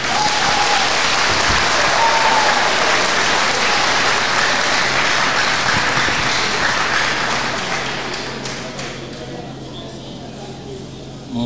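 A lecture audience applauds the speaker in a dense, sustained ovation. The clapping stays steady and loud at first, then thins and fades over the last few seconds. A faint voice can be heard beneath the applause.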